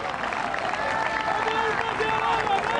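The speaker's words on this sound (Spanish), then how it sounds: "Podemos dar un aplauso grande de alabanza al Dios eterno" Large outdoor gathering in a park giving applause in praise at a church event, a broad wash of clapping and crowd noise heard from a distance, with voices running underneath throughout.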